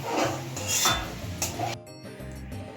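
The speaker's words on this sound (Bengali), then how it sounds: "ছোলাগুলো ভেজে নিয়েছি, এবার হচ্ছে তুলে নেব" Freshly fried chickpeas are scooped out of hot oil in a pan, with metal spoon scrapes and clinks against the pan and a light sizzle under clattering kitchen sounds.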